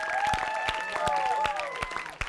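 A live-show audience applauds a guest band, a dense wash of clapping with a few sharp, louder claps and bright whistle-like tones running through it.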